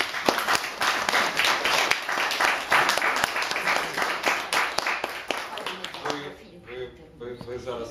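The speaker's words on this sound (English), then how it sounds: "And I invite everyone to applaud us." Audience applause in a hall at an embassy event, dense clapping from a crowd that thins out toward the end as a voice begins speaking.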